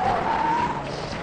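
A car skids with a sharp, high tire squeal that holds briefly and then fades beneath a loud, rushing engine roar, close and intense.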